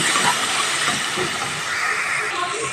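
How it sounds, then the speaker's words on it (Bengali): Spice paste sizzling hard in a pan as a little water is added while frying for a tilapia jhal, a steady loud hiss and steamy crackle running continuously throughout. "এখানে আমি অল্প পরিমাণ জল দিয়ে মশলাটা কষিয়ে নেব ভালোভাবে"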